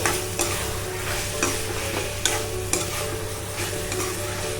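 Broiler chicken meat sizzles and fries in a pan while a utensil stirs it, with steady sizzling and repeated sharp scraping clatters at close range.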